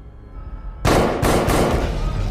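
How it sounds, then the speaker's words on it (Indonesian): Gunfire inside a gang hideout in an action film cuts in abruptly as a loud, sustained burst of sharp cracks with a few stronger impacts, continuing to the end with no speech. "keduanya tiba-tiba mendengar suara tembakan dari dalam markas"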